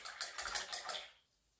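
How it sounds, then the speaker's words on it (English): A paintbrush swished in a water cup while painting hydrangea flowers: a short run of rhythmic close sloshes and clinks that fades out, no talk. "let's rinse out a brush. Rinse, rinse, rinse."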